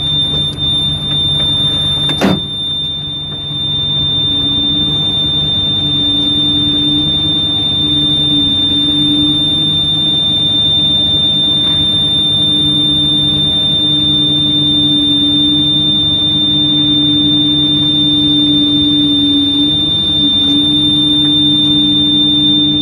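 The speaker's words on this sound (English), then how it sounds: "Sorry about the alarm going off, guys." An alarm sounds as a continuous steady electronic tone that holds for many seconds at an even loud level, with a sharp knock near the start and no talking.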